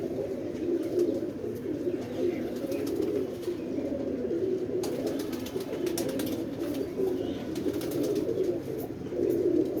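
Several pigeons coo in low, throaty, continuous rolling calls nearby in poor weather, a steady layered murmur with some faint rustling and clicks.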